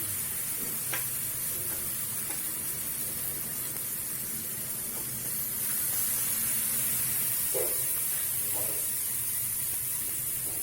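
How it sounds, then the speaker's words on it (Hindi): Spices such as chili, cumin and turmeric powder frying in a pan for a vegetable egg curry, producing a steady loud sizzle and hiss with occasional stirring scrapes and no talk. "डालकर मैं अच्छा से इसको भून लूँगी"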